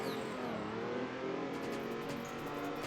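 A car drifting with the throttle held open in the Assetto Corsa racing game, the engine revving hard and steady with a faint tire squeal as the rear slides, continuous and fairly close.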